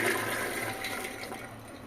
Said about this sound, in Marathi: आणि चणे बुडतील इतकं आता पाणी घालायचं आहे